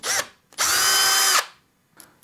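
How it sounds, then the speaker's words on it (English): A power drill bores a hole into a metal bracket: a short burst, a pause, then one sustained high whining run of under a second that cuts off, with a faint tap afterward. "you're gonna need to drill 2 holes"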